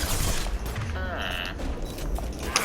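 Gunfire in the Mass Effect 2 video game rattles through a dense combat mix, with scattered shots, booms and mechanical clanks layered under an ongoing game soundscape.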